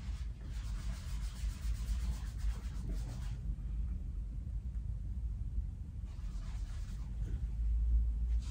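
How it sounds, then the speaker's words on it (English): A paintbrush stroking back and forth across a canvas while filling in a night-sky scene, making a soft, steady brushing rub that continues throughout, close to the microphone with a low rumble underneath. "filling in the top area here of my canvas. Just kind of going back and forth here."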